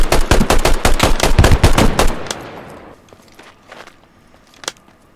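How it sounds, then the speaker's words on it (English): Rapid machine gun fire from a rooftop position in a combat zone, a loud sustained burst of closely spaced shots for about two seconds, then fading echoes and a few scattered, more distant reports. "Opening fire."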